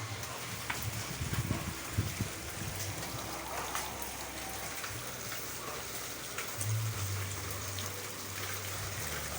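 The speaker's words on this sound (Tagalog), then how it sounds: "Lakas ng ulan." Steady heavy rain in Caloocan City hisses continuously over a low hum, with scattered drops spattering on nearby surfaces.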